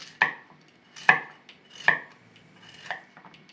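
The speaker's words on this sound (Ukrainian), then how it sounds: "Так, огірочки нарізані." A knife chops through cucumbers on a board: four sharp, separate cuts at a slow, uneven pace in an otherwise quiet kitchen.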